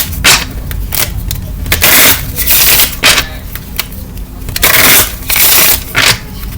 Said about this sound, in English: 3 more shuffles and then I'm gonna count.